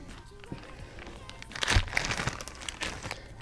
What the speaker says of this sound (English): And I'll throw it in a plastic bag.